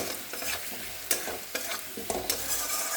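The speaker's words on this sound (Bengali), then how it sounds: "সেই তেলের মধ্যেই আমি একটু হলুদ দিয়ে দিচ্ছি" Turmeric going into hot oil with fried onions and potatoes for a masoor dal curry, a steady soft sizzle broken by several sharp scraping stirs, close and moderately loud with no voices.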